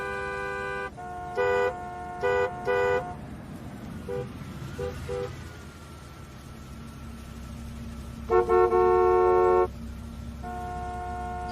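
Busy weekday-afternoon city traffic with car horns honking in repeated short toots and longer blasts, clusters early and a sustained honk near the end, over a low engine rumble.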